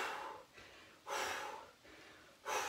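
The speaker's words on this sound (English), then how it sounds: "Breathing as you go." Heavy breathing during a workout exercise, loud and close: four forceful breaths about every half to one second, alternating sharp snort-like exhales with softer inhales, and no talk.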